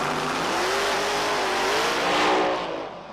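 Race car doing a burnout at the start of a 1999 FIA race at Alastaro, a loud, sustained engine roar with rising revs and tire squeal that fades slightly at the end.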